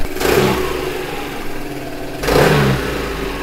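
A Royal Alloy Tigara 300 scooter's 278cc single overhead cam engine revs twice in quick bursts, settling to a rough idle between, close and loud with no talking.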